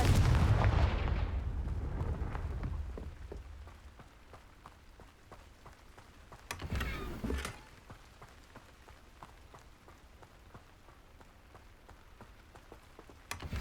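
Confringo fire spell blasts go off in the Hogwarts Legacy video game, opening with a heavy rumbling boom that fades out, then another burst midway, over a faint, steady crackling background.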